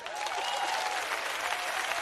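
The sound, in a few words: audience applause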